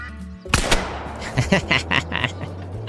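A shotgun blast in a duck hunting video game, one loud close report followed by fainter reverberating thumps and game sounds, with a steady low hum underneath.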